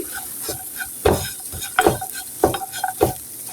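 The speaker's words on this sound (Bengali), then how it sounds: "চিনি দিয়ে এখন আমি এটি ভালো করে নেড়ে ছেড়ে নিচ্ছি" Sugar is stirred into jorda vermicelli in a frying pan, a spoon scraping in rhythmic strokes over a soft, steady sizzle, up close with no talking.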